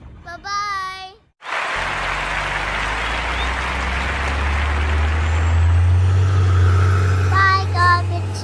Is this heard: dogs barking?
no